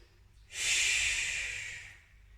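One slow, audible breath, a breathy rush of air that swells and fades over about a second and a half, taken while resting in child's pose during a quiet Pilates class.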